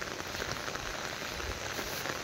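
Monsoon rain in rural North Bengal during the paddy transplanting season falls as a dense, steady hiss of drops on surfaces, continuous and close with no talk.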